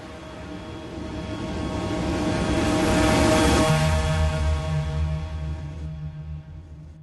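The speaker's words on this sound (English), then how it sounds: "a wave of submarine-launched heavy-lift drones skimmed low over the water, then darted skyward as they reached their targets" Heavy-lift drones skim low over water with a propeller-driven roar that swells as they pass close, then gradually recedes into a steadier, fainter drone.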